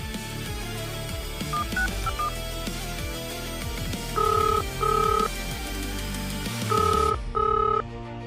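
A telephone rings unanswered through the earpiece, repeated paired electronic tones in a steady pattern, heard over a low background rumble.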